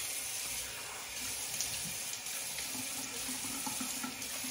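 A bathroom tap runs steadily into a sink as the face is wetted before a shave, a constant soft splashing stream heard close up with no talking.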